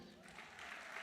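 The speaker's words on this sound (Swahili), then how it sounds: "tuwapigie makofi." A church congregation applauds children during a sermon, a brief, faint, distant patter of clapping.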